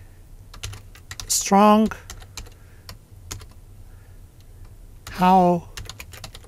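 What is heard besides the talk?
typing on a computer keyboard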